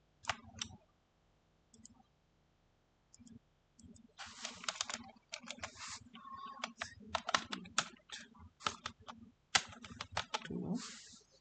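Keys clatter on a computer keyboard in irregular clusters of close, crisp taps, sparse at first and then busier, with brief pauses and faint speech in between.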